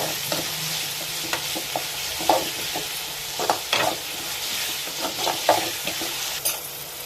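Food sizzles steadily in a hot pan while a spoon scrapes and stirs in irregular clicks and taps, with no talking.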